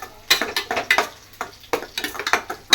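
A ground paste of tomato, coriander and dried red chilli sautés in a pan for a traditional Tamil fish curry, with close scraping stirs and clinks of the utensil against the pan in an uneven rhythm.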